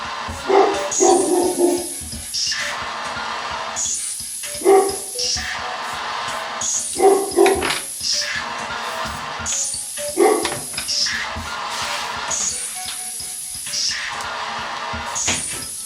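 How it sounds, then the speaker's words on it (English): A dog barks in several loud bursts spread across the recording, with whimpers and yips between them and a steady electronic tone humming in the background. "I've got to settle my dog down now"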